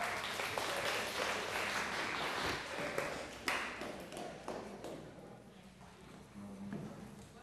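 An audience at a National Honor Society leadership training claps in a round of applause that starts full, then thins and fades into scattered claps and a few thumps near the end.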